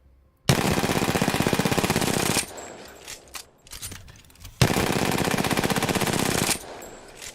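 Automatic gunfire rattles in the Apex Legends shooter game as a weapon is hip-fired: two long, loud, rapid bursts of shots separated by a short gap filled with faint clicks and handling noises.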